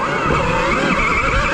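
A KTM Freeride E-XC electric dirt bike being ridden gives a loud, steady electric whine with constant rushing tire and wind noise throughout.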